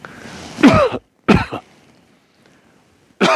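A few loud, close coughs in separate bursts, with a pause between them and a brief throat-clearing rasp.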